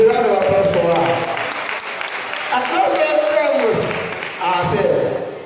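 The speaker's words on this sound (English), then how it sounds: "Please, a round of applause for her." An audience applauds a participant at a lively live event, steady clapping filling the room beneath excited voices and chatter that rise and fall across the clip.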